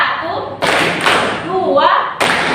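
Sixth-grade girls at an Islamic primary school clap together in a rhythm exercise: a few loud, smeared group claps in separate bursts, with a voice talking between them.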